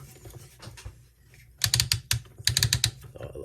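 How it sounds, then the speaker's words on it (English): Plastic joints of a chrome-version Gigapower Grassor Transformers toy ratchet in bursts of sharp, rapid clicks, close up, with quieter fiddling between the two loud clusters. "You can hear those strong ratchets in there."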